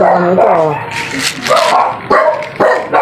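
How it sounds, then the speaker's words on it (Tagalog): A dog in North Caloocan lets out a few short, sharp barks and yips close by, mixed in with someone talking. "May aso kasi dito eh"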